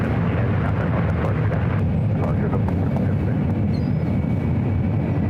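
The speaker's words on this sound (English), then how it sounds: "Eastern at 777-300ER now starting its taxi." A Boeing 777-300ER airliner taxiing at SFO airport gives a steady, loud low jet-engine rumble and roar that continues unbroken throughout, with no one speaking.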